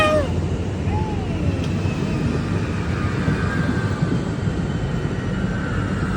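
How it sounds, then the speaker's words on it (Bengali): A train rumbles past in a continuous, loud roar of wheels and engine that holds steady throughout. "চলে গেছে ট্রেন বাই বাই ট্রেন"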